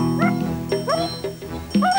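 A dog barks and yips several times in a Russian TV commercial for Frolic dog food, sharp close barks with whiny rising tones, a jingling tinkle in the background, over a steady musical bed.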